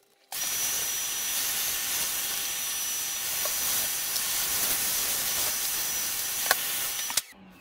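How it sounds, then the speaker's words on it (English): A loud, steady vacuum roar with a high whine runs continuously for several seconds while dust is vacuumed out of a PS4 console, then cuts off abruptly with a couple of clicks. "I'll probably fast forward through the hoovering because you don't want to hear a load of racket"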